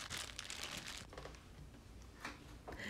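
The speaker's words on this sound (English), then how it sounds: "we're going to use a cleaver or a meat tenderizer and we're just going to break up the arrowroot" Arrowroot is broken up inside a plastic bag with a cleaver, giving close, quiet crinkling and crunching of plastic with a couple of soft knocks and rustles.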